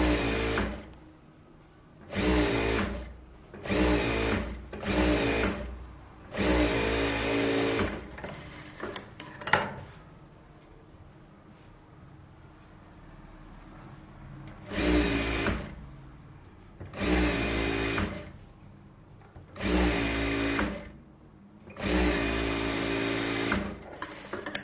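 Tailor's sewing machine stitching a collar neck blouse, running in repeated loud bursts of a few seconds each with brief pauses between, close up and without talk.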